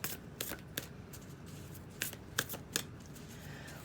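Moonology oracle cards shuffled by hand close up: quiet, with a series of short riffling bursts and soft slaps of the deck at irregular intervals.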